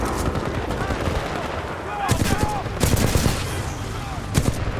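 Gunfire in the Titanfall 2 shooter game aimed at red lights, a few sharp rapid bursts of shots over a busy background of game noise, fairly close and loud.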